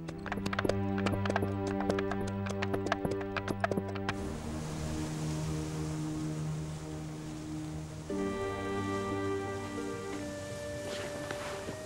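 Steady clip-clop of horse hooves, a rapid rhythmic trot up close, followed by sustained tonal music with no footsteps.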